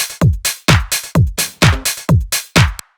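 Electronic dance drum groove with punchy kicks, hats, claps and percussion loops, a loud steady four-on-the-floor pattern of repeated booming hits close up, ending abruptly.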